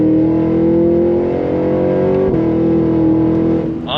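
Supercharged Cadillac Escalade-V SUV accelerating hard on throttle, a loud steady engine roar with rising pitch and a brief dip at a gear change, heard from inside the cabin.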